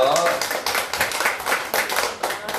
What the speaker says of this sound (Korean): 야 박수 한번 쳐줘요.